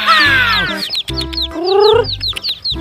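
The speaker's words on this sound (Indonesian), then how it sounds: "Banyaknya ayam rainbow." Rainbow-coloured dyed chicks and chickens give loud, close, high peeping cries in several bursts, over a low repeated hum, while a voice briefly exclaims.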